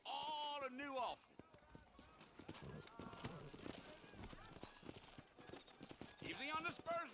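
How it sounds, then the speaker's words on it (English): Horse hooves clip-clopping in a steady rhythm in the video game Red Dead Redemption, with a horse whinny at the start and end and someone talking over the hoofbeats. "You ain't gonna find sturdier horses than these in all of New Ulster."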